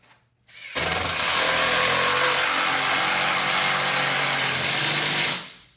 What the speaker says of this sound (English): when you're driving in the Tomahawk bowling target screws with the Tomahawk bowling target screwdriver